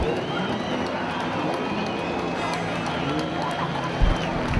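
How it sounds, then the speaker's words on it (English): A steady, loud crowd roar fills the stands at an Arena Essex banger race, honoring drivers after heavy crashes on turns 3 and 4, with a single sharp knock near the end. "Well-deserved applause for the drivers involved in that series of monumental hits down there on turns 3 and 4."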